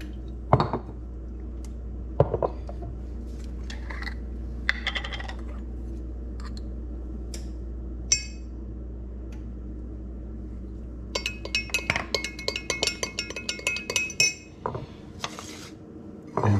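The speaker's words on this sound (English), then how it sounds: "I'm gonna have some extra virgin olive oil and mix it with minced" Garlic being mixed into extra virgin olive oil in a glass dish gives close, irregular clinks and taps of a utensil against glass, scattered at first and then a quick busy run of clatter near the end, with no talk.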